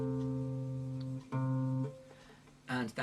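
A chord played and then repeated in a beginner melody-with-chords lesson, two sustained harmonic chords of similar length, close and clear, followed by a brief burst of talk at the end.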